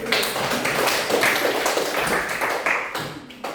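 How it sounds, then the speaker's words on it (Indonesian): Dense applause from a class or small audience, continuous and fairly close for a few seconds. "Beri aplaus dulu"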